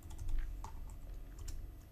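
Quiet, rapid tapping of keys on a computer keyboard while commenting out a line of code, an uneven run of light clicks close to the mic with a low background hum and no speech.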